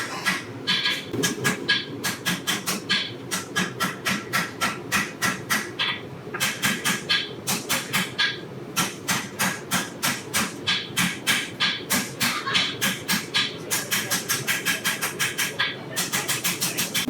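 Rapid, steady hammer strikes ring out on a hot knife blade at the forge, dozens of sharp metallic blows in quick rhythmic bursts with brief pauses between runs.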